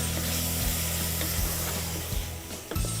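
Mutton sizzling in a hot pan just after being added for lal maas, a steady loud crackling fry with a few stirring knocks and scrapes, no voices.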